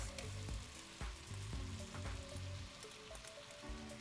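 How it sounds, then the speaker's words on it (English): Sweet yellow onions sautéing in melted butter in a pot, a steady close sizzle and crackle with intermittent clinks and stirring knocks throughout, no voices. "So I got some butter melting in the pot. I'm gonna add in our sweet yellow onions."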